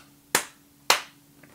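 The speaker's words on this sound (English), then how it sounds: "loud applause from the back" Two sharp, separate hand claps a half-second apart during a livestream, close and fairly crisp over a quiet background hum.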